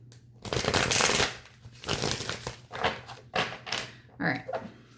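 A deck of cards being shuffled during a pick-a-card spirit reading, with riffling bursts repeating at an even pace and close by over a low steady hum.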